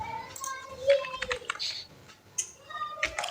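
Quick keystrokes on a computer keyboard as numbers are entered, a scattered run of light clicks at close range that mingles with faint background voices.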